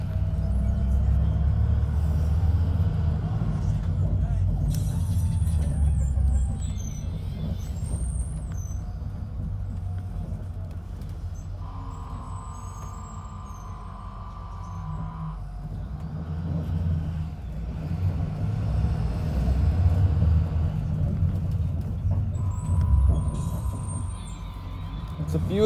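A 2013 IC CE school bus on its ride home rumbles heavily over a bumpy road, deep shaking low-end noise that swells and eases, with a few rattles and brief higher squeaks along the way.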